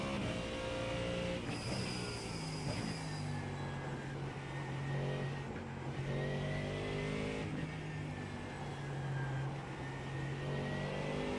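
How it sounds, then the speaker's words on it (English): A Mustang GT3 race car engine in iRacing at the Nurburgring drones steadily and closely, its pitch rising and falling with acceleration and gear changes, with no talking. "At least I get to listen to this sweet, sweet Mustang."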